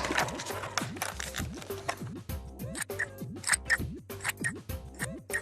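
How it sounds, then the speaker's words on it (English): Scissors snip repeatedly through paper up close, a quick series of sharp crisp cuts in an uneven rhythm. "cut this shape out very carefully, but be careful because scissors are sharp"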